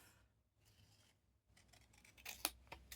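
Scissors snipping paper at close range, faint at first, with a few crisp cuts and sharp clicks of the blades building toward the end, and no talking.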